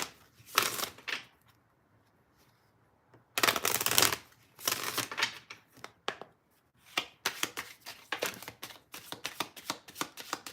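Tarot cards being handled and shuffled, several loud riffling bursts separated by short pauses, followed by quicker, lighter card-tapping rustles close to the microphone.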